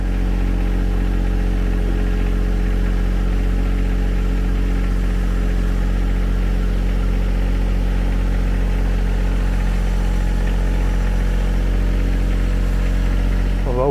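A tractor engine runs steadily at a rural property on a rainy evening, a loud, constant low-pitched rumble with no revving, heard alone without talk.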